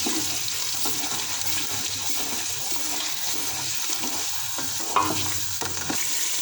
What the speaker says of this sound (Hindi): हमारा प्याज वो अच्छी तरह से भून चुका हुआ है